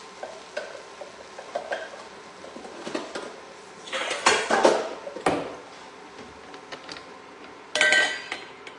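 A heavy frying pan is handled in the kitchen, producing scattered clinks and knocks of metal and utensils, with a couple of louder clattering bursts among quieter scraping.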